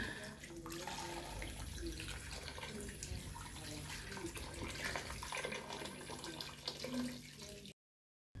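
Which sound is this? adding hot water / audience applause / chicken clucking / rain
adding hot water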